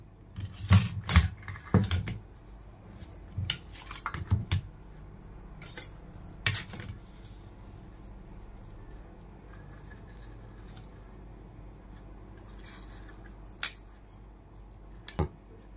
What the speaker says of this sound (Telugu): ఇప్పుడు ఇలా మనం ఉడికిపోయిన ఇడ్లీని స్టాండ్లో నుంచి రిమూవ్ చేసేసుకొని సర్వింగ్కి సిద్ధం చేసుకుందాం.